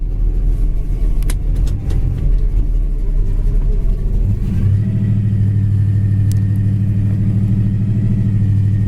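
Engine of a maroon 1969 Pontiac GTO running steadily up close, a deep rumbling idle that shifts into a louder, steadier drone partway through.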